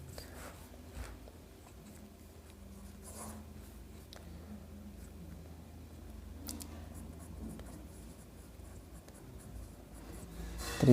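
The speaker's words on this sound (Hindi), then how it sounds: "तो यहाँ पे लिखेंगे हम लोग" Marker or chalk scratching steadily across a classroom board, soft and continuous with faint rubbing strokes and small taps throughout.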